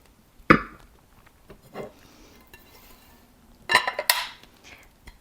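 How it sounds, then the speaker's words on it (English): A removable handle clanks onto metal cookware pots in a kitchen, giving a few sharp, close metallic knocks and clinks separated by short quiet pauses. "The handle is removable and you can attach it to any of their pots and"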